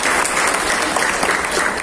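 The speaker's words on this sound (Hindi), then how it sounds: "एक बार आपके लिए जोरदार ताली।" An audience applauds at an honouring ceremony for sanitation workers, a dense, continuous clapping for the whole short span.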